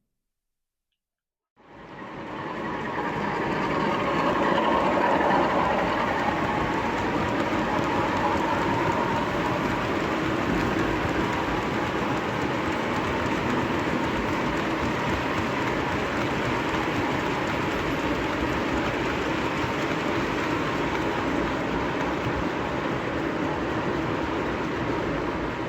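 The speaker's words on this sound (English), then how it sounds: "HST 125 incoming." A model HST 125 train runs on a layout with a steady, continuous whirring rumble that starts abruptly and holds at an even level, close and alone with no talk.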